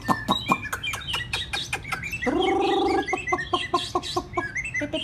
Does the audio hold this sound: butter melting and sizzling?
no